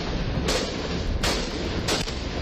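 Gunshots fired from a car at a robbery suspect in city traffic, three loud sharp reports spaced well apart over a steady roar of traffic and engine noise.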